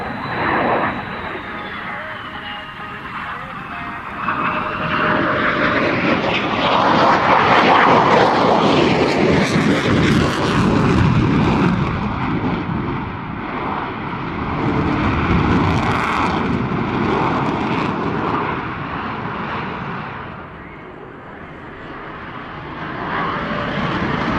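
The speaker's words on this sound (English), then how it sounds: "Two powerful F-119 engines, which literally flip the aircraft through the vertical and back to level flight" An F-22 Raptor with two F-119 engines flies a power loop, its loud, continuous jet roar swelling, peaking and sweeping in pitch as it climbs through the vertical, then easing and fading slightly as it returns to level flight.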